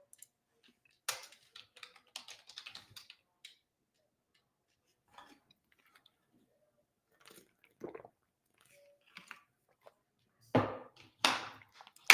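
Scattered, faint clicks of a computer keyboard being typed on in short bursts, separated by long quiet gaps, with a few louder clustered taps near the end.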